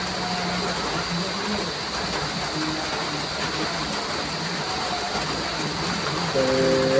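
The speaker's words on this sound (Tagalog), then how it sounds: "At lumakas ang ulan" Heavy rain pours down near a river during flooding, a dense, steady hiss that holds unbroken for the whole stretch and swells slightly near the end.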